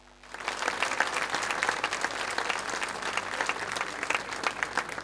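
Applause from an audience at a soloists' gathering in San Rafael rises quickly after a quiet moment and holds steady as dense, continuous clapping.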